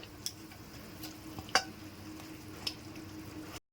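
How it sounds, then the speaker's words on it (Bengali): Pieces of rohu fish go into a boiling gravy for a kalia. The simmer is quiet and low, with a few soft clicks and splashes spaced apart before the sound cuts off. "গ্রেভিটা ফুটে গেছে, এবার আমি মাছগুলো দিয়ে দিচ্ছি।"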